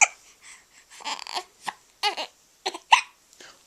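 A baby hiccuping repeatedly, with short sharp hiccups at irregular intervals and soft breathy whimpers between them, close and clear.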